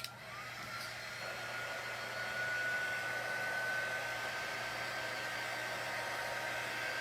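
A hair dryer blowing over a handmade Easter egg-hunt craft sign, a steady loud whooshing hum with a faint whine, running continuously from start to finish without any talk.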